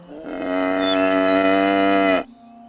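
A single cow moos in a long, steady, loud call lasting about two seconds, close and clear with no talking.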